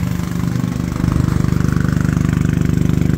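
A generator runs nearby at a deck construction site, its engine chugging in a steady, loud, rapid rhythm that firms up after a second and holds throughout.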